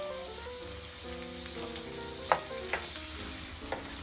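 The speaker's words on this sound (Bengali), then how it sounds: "এবার এই সব কিছুকে হালকা ব্রাউন করে ভেজে নিতে হবে" Two tablespoons of chopped onion and a tablespoon of chopped garlic frying until lightly browned for Bangladeshi spinach curry, a steady close sizzle with scattered stirring clicks and a faint tonal hum underneath, no talking.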